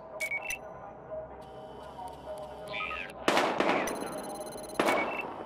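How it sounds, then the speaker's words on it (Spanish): Gunfire in the video game Battlefield Hardline, with sharp bursts of shots and metallic clatter coming in clusters over a low background hum, loud near the end. "Se oyen disparos."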